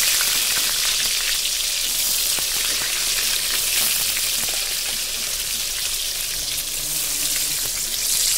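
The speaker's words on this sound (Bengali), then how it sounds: "তো এখন ফটাফট বেগুনটা ভেজে নেব।" Eggplant slices fry in hot oil, producing a steady crackling sizzle with scattered pops at moderate loudness, heard alone with no talking.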